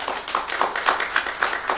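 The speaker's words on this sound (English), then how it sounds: "help me give a round of applause to our other panelist" Audience applause for a panelist at a KUA Africa panel event, heard as a brief scattering of claps with a few sharper individual hand claps standing out, fairly close and moderately loud.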